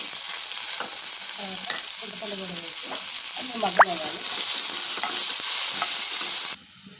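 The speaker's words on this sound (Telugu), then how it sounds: "అదే ప్యాన్లో కొద్దిగా ఆయిల్ వేసుకున్నాం బీరకాయ ముక్కలు టమాటా ముక్కలు వేసుకున్నాం" Ridge gourd and tomato pieces fry in oil in a pan, giving a loud, steady close sizzle with stirring scrapes throughout that cut off abruptly near the end.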